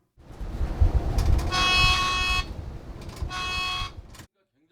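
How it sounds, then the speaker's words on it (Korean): On a city bus turning right, an AI pedestrian-detection camera sounds two bursts of rapid electronic warning beeps over the low rumble of the moving vehicle, loud and close. "버스가 우회전할 때 보행자를 인식한 AI 감지 카메라가 즉시 경보음을 내고"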